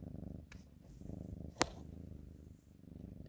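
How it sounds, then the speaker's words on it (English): A cat purrs softly and steadily up close, a low continuous rumble with a single sharp click partway through. "And she's purring away."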